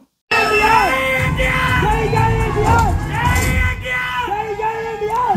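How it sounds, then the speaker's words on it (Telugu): A cinema crowd at a movie premiere in Germany yells, whoops and whistles loudly over the film's soundtrack, with repeated whistle sweeps and bursts of cheering throughout. "జర్మనీలో అసలు ఎంత కేకలు ఈలలు"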